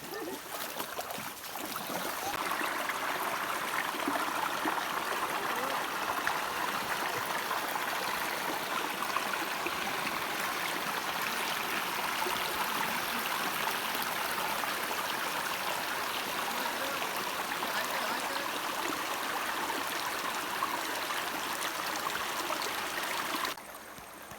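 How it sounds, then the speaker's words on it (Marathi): A babbling stream beside a Konkan river picnic spot, its water rushing and gurgling in a close, continuous, even wash for the whole stretch with no talking. "खळखळ वाहणारा झऱ्या पर्या आणि त्यातून चालत चाललो"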